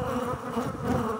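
Honeybees buzz densely at an open beehive frame during queen-rearing work in an apiary, a close, continuous, loud drone with no talk over it.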